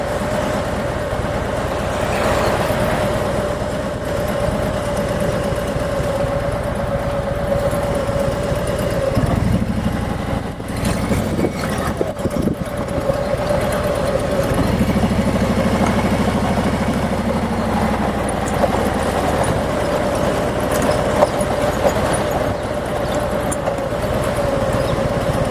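A car engine runs steadily while driving around city streets, a constant droning hum with road noise and a few bumps throughout, no one speaking.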